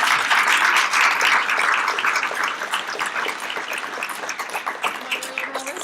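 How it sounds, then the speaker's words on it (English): An audience at a teaching credential program orientation gives a round of applause, dense steady clapping that is fairly loud at first and thins gradually, with a faint voice near the end. "Give her a round of applause."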